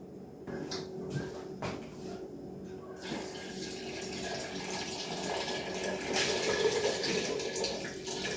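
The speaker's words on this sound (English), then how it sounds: "what you want to do is pour in some water" Water poured from a tap or jug over a pot of vegetables for homemade broth, a soft steady running splash with a few knocks and clatters at the start.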